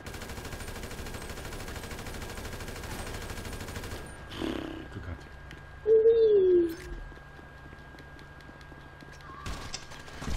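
Gunfire from above in GTA V Online, heard as a rapid burst of shots in the first few seconds followed by a couple of isolated cracks later, with game ambience, a brief whistle-like tone and no talk.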